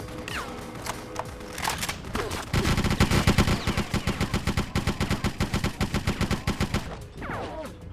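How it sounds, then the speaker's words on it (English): Rapid automatic gunfire from the video game BloodRayne, set in Germany: a few scattered shots, then a dense, loud run of evenly spaced bursts that stops abruptly near the end. "I guess I should shoot him."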